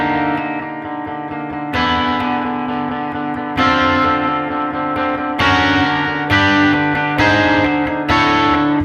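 An electric guitar plays a distorted, effects-laden riff, with a ringing string sustaining under loud, repeated chord attacks.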